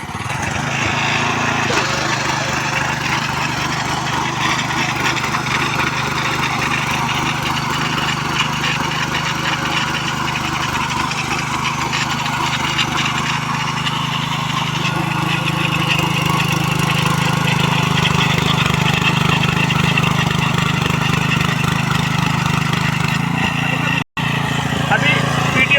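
A power tiller engine runs steadily with its back rotary attachment engaged, a loud continuous droning hum that deepens and strengthens partway through as the gear changes, with voices talking over it.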